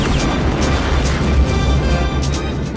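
Rumbling explosion in the Yager flight combat game, a heavy sustained boom with crackling debris and sharp bursts layered over it, loud throughout.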